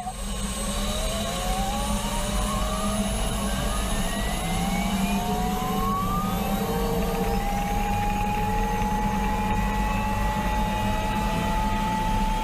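A motorcycle built for extreme top speed, near 370 km/h, roars past at full throttle in a steady loud engine drone with rising whine tones sweeping upward throughout.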